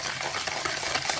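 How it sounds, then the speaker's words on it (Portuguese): Brief, quick scraping and swishing of a hand whisk beating pineapple cake batter in a bowl, a fast rhythmic stirring close up with no talk. "eu gosto assim na mão, bater com o fouet"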